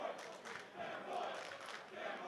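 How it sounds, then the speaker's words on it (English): Wrestling crowd at a Briscoe Brothers tag match chanting in rhythmic swells, fairly distant and muffled, rising and falling in regular pulses. "Crowd chanting for them boys."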